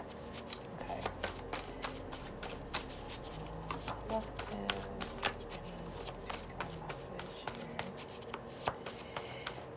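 Tarot cards shuffled continuously, a dense run of soft riffling flicks and slaps close by, with quiet movement between the louder snaps.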